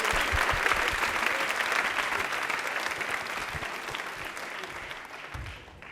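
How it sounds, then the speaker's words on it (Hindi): Audience applause at a Rajasthani quiz program, a dense, steady wash of clapping from a studio crowd that holds for the full span and tapers slightly near the end. "तालियां प्लीज एक बार जोरदार हो जाए अंजलि के लिए।"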